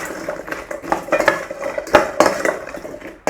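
Seasoned chips with black pepper and smoked paprika are tossed in a bowl, producing a quick run of irregular scraping clatters and light clinks up close, no voices.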